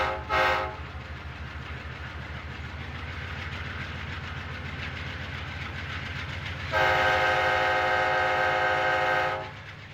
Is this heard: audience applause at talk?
no